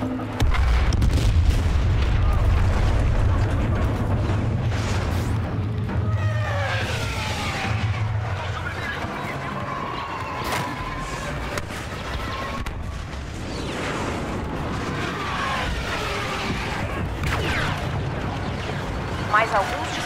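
Blaster gunfire and heavy explosions rumble against an AT-AT walker in the Star Wars Battlefront video game, with deep booms, sustained low roar and whining laser bursts layered throughout.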